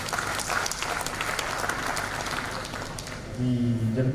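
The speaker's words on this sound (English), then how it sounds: "Shall we please give the clergy another round of applause?" A church audience gives the clergy a round of applause at a combined Padre Hour gathering, a steady patter of hand clapping, with a voice coming in over the tail end.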